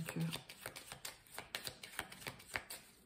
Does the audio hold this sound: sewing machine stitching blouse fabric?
no